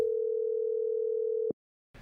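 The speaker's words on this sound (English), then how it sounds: "Changed my ringtone." A steady electronic phone tone sounds for about a second and a half, then cuts off abruptly, followed by brief silence and faint noise.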